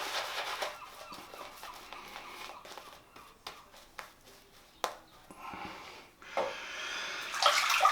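Tap water runs steadily during a wet shave with a worn razor blade, a soft continuous trickle and splash close by, broken by a few brief clicks, swelling louder near the end.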